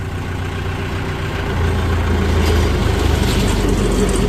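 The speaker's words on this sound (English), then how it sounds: "Then we're going to engage the PTO, run a couple pieces through to show you how nice she runs." The Perkins engine of a 2015 Bandit 200UC wood chipper runs steadily at idle, a deep continuous drone that grows slightly louder and rougher as the PTO is engaged partway through.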